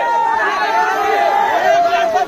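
Dense crowd noise at a village Ganesh idol immersion, a steady roar of many voices with chanting and calls layered together, loud and continuous throughout.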